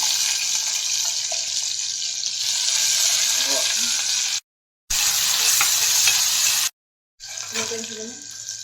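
Fenugreek seeds and onions fry in a hot pan with a loud, dense, close sizzle, marked by occasional stirring, and the sound cuts out completely twice for short moments.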